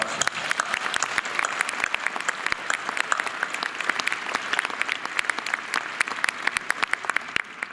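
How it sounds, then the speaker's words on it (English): A graduation audience at the Burrell College of Osteopathic Medicine ceremony applauds its faculty, steady dense clapping from a large crowd sustained throughout without a break. "To our faculty, please give them a round of applause."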